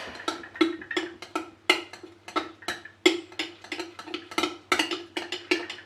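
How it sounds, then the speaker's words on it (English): Sourdough starter of flour and water being stirred in a container, giving a steady run of quick clinking and tapping strokes, close and fairly loud, with no talk. "And I'm gonna mix it"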